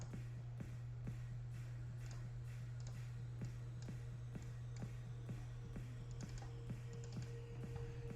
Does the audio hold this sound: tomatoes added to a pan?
no